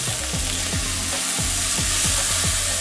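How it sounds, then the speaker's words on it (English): Tomatoes fry in oil in a pan, a close, steady sizzle with a bright hiss and rhythmic popping crackles running throughout, no talking. "Flip the tomatoes to the other side and cook for another minute."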